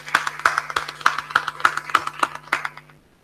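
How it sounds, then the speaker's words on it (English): Applause at a lecture on supply chain management: about a dozen evenly spaced, crisp hand claps in steady rhythm over a low hum, stopping abruptly near the end. "Give him a round of applause."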